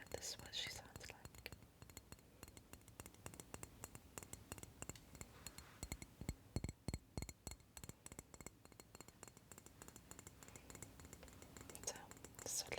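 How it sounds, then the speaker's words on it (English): A small glass fox figurine on a faux plant makes soft, quiet clinks and taps in a rapid, irregular series, heard close up under whispering. "I'm not the biggest fan of glass sounds, but this is what she sounds like."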